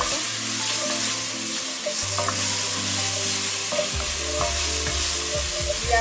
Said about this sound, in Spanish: Se lo agregamos al sofrito. Seguimos mezclando.